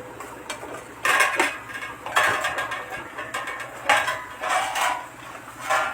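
Pots clatter as a kawali cooking pan is opened and handled, with a series of sharp metallic clanks and scrapes coming in bursts, close and fairly loud, with no talk.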